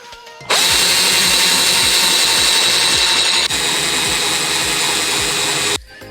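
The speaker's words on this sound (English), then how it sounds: "So now we're just going to drill these out." A power drill bores a large hole through a solid core door, a loud, close, continuous whine that starts abruptly, holds steady with a slight change partway through, then stops.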